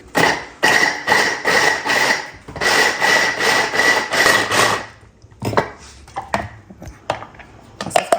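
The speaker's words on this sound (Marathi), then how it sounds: "तर पाच मिनटात हा पूर्ण कोबी मी कट करून घेतला" A whole cabbage being cut with a knife on a board for Manchurian: rapid, steady rhythmic chopping in two long bursts, loud and close, followed by slower scattered knocks and scraping of the pieces.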